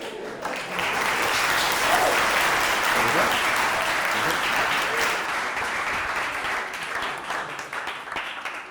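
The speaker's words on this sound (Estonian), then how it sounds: "Teeme Robinile veel aplausi" Applause from a seated audience at a gathering, a sustained burst of clapping that swells quickly, holds steady for several seconds, then slowly thins out.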